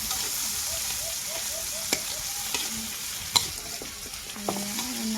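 Ripe bitter gourd sautéing in a pan, a steady close sizzle with light stirring scrapes and a few soft clinks, no talking.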